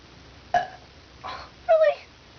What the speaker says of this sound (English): It's hard to keep the burps down